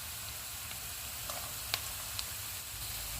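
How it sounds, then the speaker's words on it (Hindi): Steady low sizzle of onion and chopped garlic frying in hot oil for aloo ka bharta, with a few faint clicks over the continuous hiss and no voices. "ऑयल गर्म हो गया, इसमें हम प्याज डाल देंगे। प्याज को हम 2 से 3 मिनट तक फ्राई करेंगे।"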